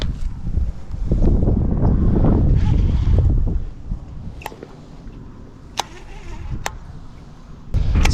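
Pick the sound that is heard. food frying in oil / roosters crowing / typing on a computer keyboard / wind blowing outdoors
wind blowing outdoors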